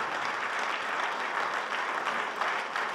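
Sustained applause from an audience at a New Year's reception conference, a dense, even wash of clapping that stays loud and steady throughout.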